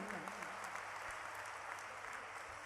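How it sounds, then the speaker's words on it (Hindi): An audience at a Hindu religious gathering applauds to welcome a revered female spiritual teacher, a faint, steady, even patter of many hands clapping throughout with no pauses. "जोरदार तालियों से उनका अभिनंदन।"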